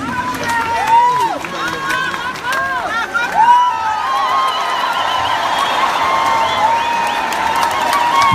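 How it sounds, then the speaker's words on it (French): Audience applause mixed with crowd cheering and chatter at a live kompa concert, with a voice talking over it and other sounds on top; the clapping stays steady and fairly loud throughout. "Alors je vous demande d'applaudir très fort Monsieur Benin Saïd"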